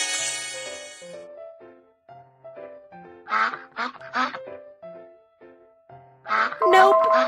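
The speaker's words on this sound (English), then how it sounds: "Duck." A cartoon duck quacks in a few quick bursts midway, then again more loudly at the close, set against soft background music.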